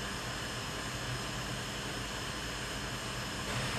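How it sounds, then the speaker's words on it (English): A handheld heat tool blows hot air over adhesive tape on a paper document, producing a loud, steady, close-up whoosh that holds constant throughout with no talking. "As soon as you pick it up, it starts heating up, and I'm starting to warm the tape here."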